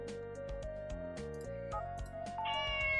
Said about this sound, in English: A small kitty is there.